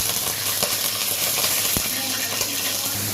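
Onion and coriander with rock salt frying in hot oil in a kadai, a steady dense sizzle with occasional stirring scrapes, close and continuous with no talking.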